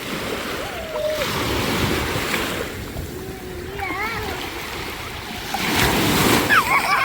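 Sea waves wash and break on the shore at Bağırganlı, Turkey, in broad, repeated surges, with wind and voices talking nearby over the surf.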